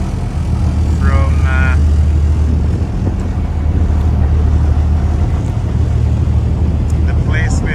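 A boat crosses the sea toward the island of Patmos, its loud engine droning steadily under heavy wind buffeting on the microphone, with a brief voice early on.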